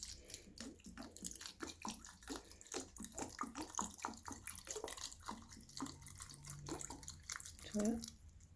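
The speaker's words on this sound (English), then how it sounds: "So just going to top all the blackberries up with the cider vinegar." Cider vinegar is poured over blackberries in a jar, a close, uneven trickling pour with splashy bursts, and a voice is heard at times.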